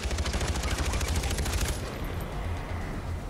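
Rapid automatic gunfire from the PS4 video game Far Cry 4 rattles in a dense burst for nearly two seconds, then drops back to a lower, rumbling background of game sound.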